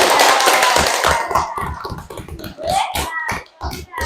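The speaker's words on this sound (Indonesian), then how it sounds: "Kalau begitu tepuk tangan untuk kelompok 3" A classroom group claps for the third group after their presentation, a burst of loud applause fading into scattered, uneven claps.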